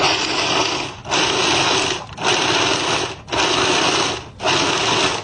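A food processor pulses chopped pears in five roughly one-second bursts, each a loud close whirring buzz separated by brief near-silent gaps, with no talking.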